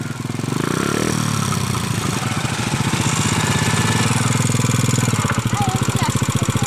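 A small motorcycle engine runs and revs steadily with a pulsing, chugging drone during a riding lesson, loud and close throughout.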